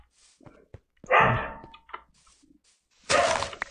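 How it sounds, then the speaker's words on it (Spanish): Pet dogs bark in the house, two loud sharp bursts with a few quieter yips and knocks between them, set against near silence. "si escuchan a mis perros ladrar"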